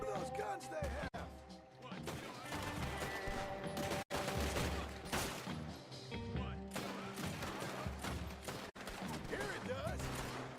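Dense gunfire from old-west firearms in Red Dead Redemption 2, a chaotic barrage of loud overlapping shots and crashes with brief gaps, while voices talk over the fight.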